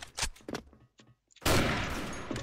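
Sniper rifle fire from an AWP in Counter-Strike: a loud, sharp shot at the midpoint followed by a long reverberating tail, preceded by several scattered softer gunshots and clicks.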